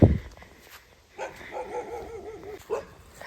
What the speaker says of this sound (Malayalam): രണ്ട് മൂന്ന് പട്ടികൾ വന്ന്